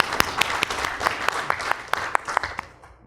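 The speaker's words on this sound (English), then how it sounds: "let's give a big round of applause to Rajesh and Mr. Phil for doing this tie-up" Audience at a football partnership launch event giving a round of applause, with sharp individual claps standing out over a thinner crowd, fading out near the end.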